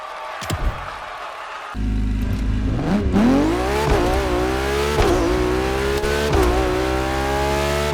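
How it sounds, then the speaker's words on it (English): A LaFerrari supercar in The Crew Motorfest kicks into a loud, close engine roar after a brief lull, revving up and down repeatedly with rising and falling pitch, sustained to the end. "the fastest and most exhilarating road car ever made by the prancing horse, LaFerrari"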